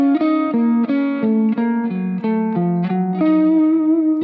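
A distorted electric guitar plays a quick minor pentatonic lick with a flat five, single notes in a steady descending-and-rising pattern, loud and upfront with no voices.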